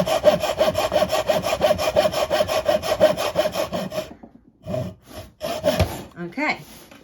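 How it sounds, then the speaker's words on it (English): Hand saw cutting through wood along a marked line, a steady fast rhythm of close push-pull strokes for about four seconds, then a few scattered rasping strokes and knocks as the cut finishes. "I'm now cutting on the waist side of my line."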